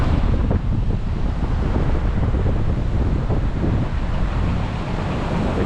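Strong wind blows steadily on a beach in Da Nang, Vietnam, buffeting the microphone in a loud continuous roar with surf faintly mixed underneath.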